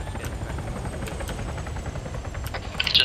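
In an Arma 3 police roleplay game, a helicopter's steady rotor and engine noise drones at moderate level beneath faint scattered clicks, growing slightly louder near the end.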